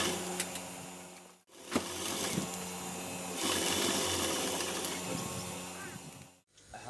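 A sewing machine runs steadily while stitching a waistcoat jacket, the motor whirring continuously apart from two brief stops, with a faint voice at times underneath.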